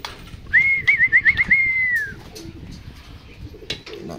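Pigeon in a family loft giving one clear rolling coo of several quick pulses that ends in a drawn-out note, with soft background noise and faint knocks afterward.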